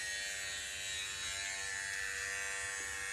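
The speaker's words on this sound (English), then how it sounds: "This is the Wahl corded clipper and trimmer." A Wahl corded clipper and trimmer runs alone at close range, giving a constant bright electric buzz that holds steady for a few seconds without pause.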